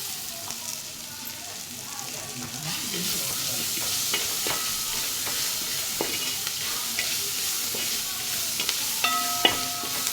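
Sliced onions sautéing with ginger garlic paste in a pan for a buffalo curry, a continuous close sizzle broken by spatula scrapes and a few metallic clinks toward the end.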